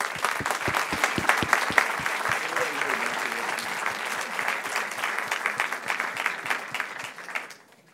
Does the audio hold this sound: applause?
yes